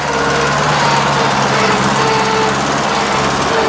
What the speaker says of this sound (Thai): เบิ้ลรถเบิ้ลท่อเนี่ย